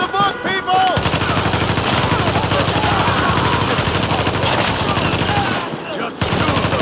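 Sustained automatic gunfire from the video game The Division roars loud and dense almost without pause, briefly broken near the end before resuming, with indistinct voices buried under the shooting.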